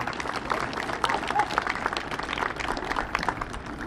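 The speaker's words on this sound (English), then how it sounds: "And a round of applause for our finalists, our Teacher of the Year." Audience at a school district Teacher of the Year event applauds the finalists, a fairly close, steady round of clapping with crowd murmur and some voices underneath.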